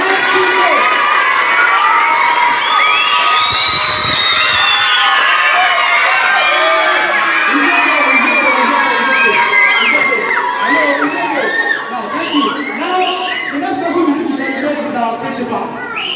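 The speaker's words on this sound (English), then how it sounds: "Please, I want us to give her a sound applause" School students cheer and shout loudly in a large, dense crowd for their teacher, with children's high-pitched screams and whoops running continuously and slightly easing toward the end.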